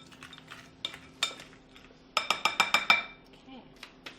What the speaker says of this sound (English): I'm just going to use this spoon since I have it out to kind of coat everything